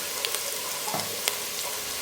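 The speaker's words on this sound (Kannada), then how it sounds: "ಈರುಳ್ಳಿ ಫ್ರೈ ಆಗಿದೆ" Onions fry in a pan while a peanut curry is being made, with a soft continuous sizzle and a few faint clicks from stirring. No voice is heard.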